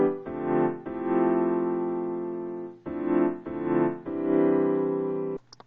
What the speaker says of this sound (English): you have the regular piano, which sounds like this.